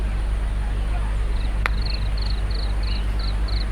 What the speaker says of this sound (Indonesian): Nah ini masih terdengar suara jangkrik